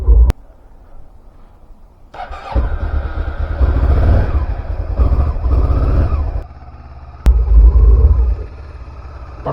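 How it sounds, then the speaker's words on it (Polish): A Honda CBF 500 motorcycle engine starts with a short crank and settles into a loud, steady idle close by, with a few gentle blips of throttle; no talking. "potem zapalić motocykl, uruchomić silnik."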